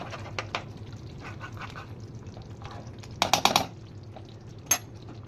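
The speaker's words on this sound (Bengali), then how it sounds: "একটুখানি নেড়ে নিয়ে রেডি হয়ে গেছে পটল আলুর রসা" A spoon scrapes and clinks against a pot while stirring potato and pointed gourd curry finished with ghee and garam masala, with scattered light taps and a burst of sharp metallic knocks, then a last clink.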